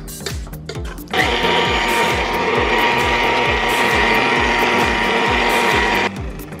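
An electric mixer beats a big clump of butter into brownie frosting, its motor starting with a jolt and then running loud and steady with a rhythmic mechanical whir for about five seconds before stopping.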